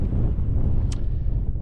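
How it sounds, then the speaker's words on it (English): Steady wind roars across an exposed mountain ridge on the Isle of Skye, a dense low rumble buffeting the microphone throughout with one brief brighter gust in the middle. "There's nowhere really to hide, and it's still pretty windy."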